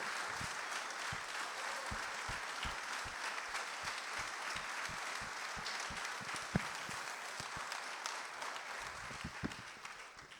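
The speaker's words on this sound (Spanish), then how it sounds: "Si es para su gloria, más fuerte el aplauso." A church congregation applauds during a Sunday sermon, a continuous spread of many hands with some sharper individual claps standing out, steady and moderately distant, no voices on top.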